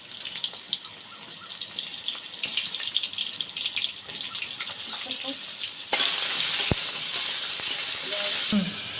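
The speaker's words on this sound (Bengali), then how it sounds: "এগুলো ভেজে নিলাম।" Dried chillies, five-spice seeds and a little sugar fry in hot oil, giving a steady crackling sizzle that grows louder and brighter midway, with occasional stirring clinks.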